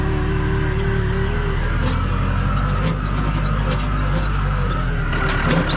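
A tractor runs back down to a farmhouse on an abandoned farm in Central Portugal, its engine a loud, steady rumble with continuous low drone and no talking.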